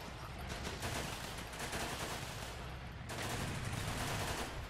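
Dense, continuous battlefield fire from a Running With Rifles Pacific Theater match, with mortar rounds landing amid steady rifle and machine-gun bursts, loud and unbroken throughout with a brief dip before resuming.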